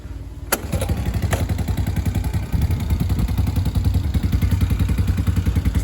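A Honda TRX90 ATV engine runs after a top end rebuild, carb not yet tuned and no factory airbox, a close, loud, rapid steady thumping idle that starts with a sharp clack and holds an even putter to the end.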